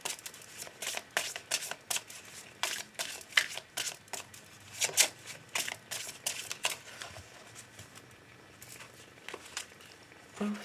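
Oracle cards are shuffled by hand in quick, close bursts of riffling and flicking with short gaps, fading to a softer rustle near the end.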